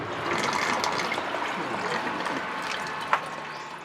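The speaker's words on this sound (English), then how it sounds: "During this process, the coconut water is collected in a container and stored for later sale." Coconut water trickles and splashes steadily into a collecting container on a Thai coconut farm, a continuous close liquid wash with one brief sharp knock near the end.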